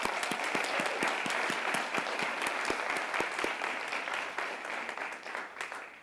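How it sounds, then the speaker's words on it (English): Audience applause at a celebration event, a sustained wash of clapping with some sharp individual claps standing out, moderately distant and fading slightly toward the end. "So yeah, another round of applause."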